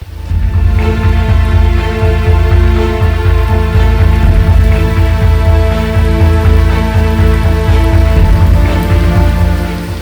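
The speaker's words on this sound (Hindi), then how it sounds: "अभी भी जोरदार बारिश चालू है" Heavy monsoon rain pours down in Haridwar, Uttarakhand, a loud, steady, unbroken downpour drumming on surfaces throughout, with no voices.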